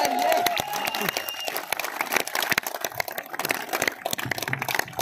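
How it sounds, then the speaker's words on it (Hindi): Dense audience applause fills the hall continuously, close and loud, with scattered cheers and crowd noise mixed in at an awards-style stage event. "ये तालियां तो आप निश्चय तो मेरे लिए बजाई थी सर"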